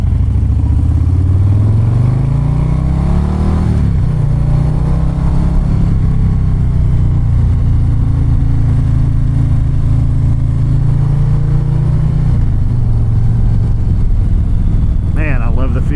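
A 2024 Harley-Davidson Low Rider ST motorcycle on a test ride, its engine rumbling steadily and loud throughout with a brief shift in pitch near the start, while a rider talks over it.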